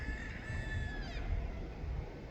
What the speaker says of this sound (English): Oh, we had pheasant just fly in.